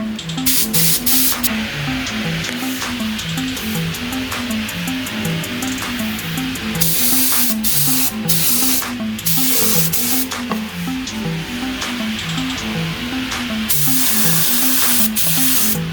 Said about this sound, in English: Just spray whatever I can.